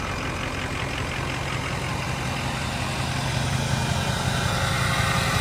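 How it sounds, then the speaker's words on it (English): A 2003 Ford crew cab dually Power Stroke turbo diesel flatbed truck idling through a bigger aftermarket exhaust, heard up close as a loud, steady, rough low rumble with a hissy, airy edge that swells slightly toward the end. "We'll walk around so you can hear the exhaust."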